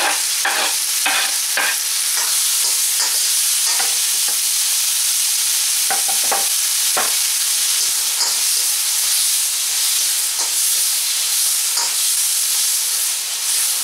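Four serrano chiles cut in strips and three tomatoes brown in a hot pan, giving a steady loud sizzling hiss broken by a run of sharp stirring clatters early on.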